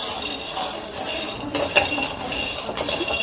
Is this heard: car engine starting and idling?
no